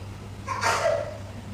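One short sneeze in a quiet indoor setting, a sudden burst that trails off quickly over a low hum.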